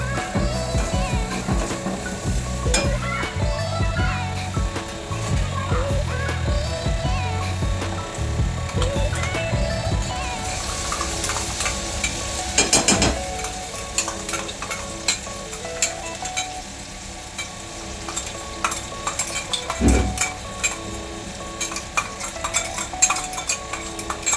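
Tomato and onion paste frying in a pan for palak paneer, a loud bubbling sizzle with continuous scraping and knocking of a spatula against the pan as the paste is stirred, close and without speech.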